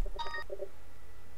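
A mobile phone sounds off with a short burst of electronic tones and beeps, brief and clear against a quiet room.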